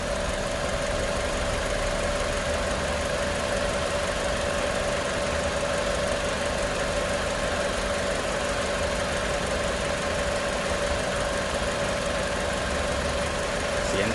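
A 2004 Honda CR-V 2.0 i-VTEC engine idles steadily and evenly for a long stretch, a constant mechanical hum with a faint tonal whine, recorded up close.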